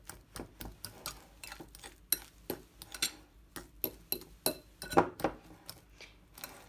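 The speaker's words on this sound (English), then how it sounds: "So I'm going to mash them like so, just using the fork." Soft boiled potatoes get mashed with a fork in a bowl for creamy potato soup, a steady run of about twenty quiet, close taps and clicks.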